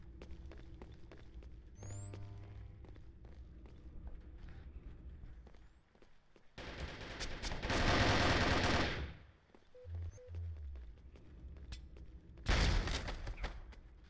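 Gunfire crackles through a video game tournament match, with two long, loud bursts of shooting and a grenade-like blast standing out over quieter background game sounds and footsteps.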